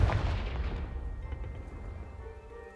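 A Confringo blasting spell explodes in Hogwarts Legacy, a deep booming blast that starts loud and rumbles away over a couple of seconds.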